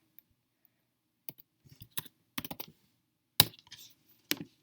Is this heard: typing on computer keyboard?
yes